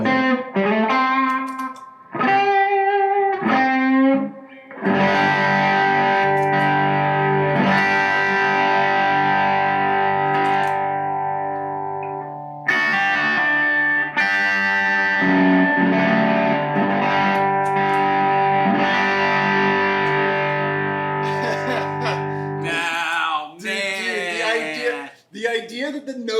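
Electric guitar driven through the ODR side of a Keeley Nobel Screamer overdrive pedal, a thick, saturated, sustained tone playing chords and single-note phrases with brief gaps between passages.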